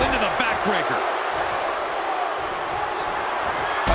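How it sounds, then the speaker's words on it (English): A WWE 2K24 arena crowd roaring steadily throughout, a dense, loud wash of cheering with a sharp impact thud at the very end. "Deafening cheer from the WWE Universe is reverberating around us."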